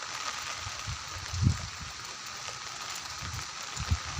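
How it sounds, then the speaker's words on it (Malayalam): Heavy rain falls outside St. Mary's Church in Chowwannur, a soft steady hiss with scattered louder drips and patters, faint and even throughout, with no speech. "നല്ല മഴയത്താണ് കേട്ടോ നമ്മൾ വീഡിയോ എടുക്കുന്നത്."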